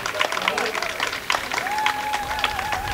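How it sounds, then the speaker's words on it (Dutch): Outdoor festival crowd on Schouwburgplein in Rotterdam applauding the event's supporters, scattered clapping mixed with crowd murmur and voices, with a sustained tone from music or a whistle running underneath. "Een applaus voor deze"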